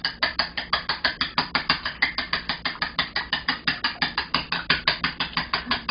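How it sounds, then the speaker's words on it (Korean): Eggs with a little salt beaten with chopsticks in a bowl, giving a steady, fast series of crisp clicking taps at about four per second, close and alone. "그 다음에 젓가락으로 잘 풀어 주세요."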